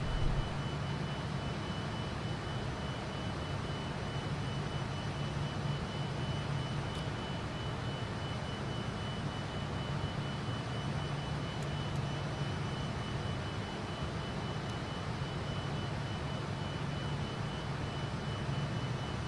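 A steady, thunderous jet roar from a JustFlight F28 airliner in a flight simulator fills the whole stretch in flight, loud and unbroken, with a faint high tone running over it and no talking.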